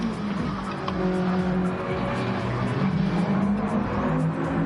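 Race cars on a circuit heading down into a hairpin on the first lap of a GTCA championship final, a continuous loud engine drone with shifting tones and possible tire noise running throughout.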